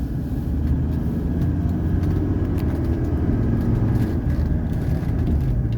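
Inside a 1984 Mercedes 300SD diesel sedan driving through downtown Roswell, a steady low diesel drone and road rumble continue for several seconds with faint clicks, no voices.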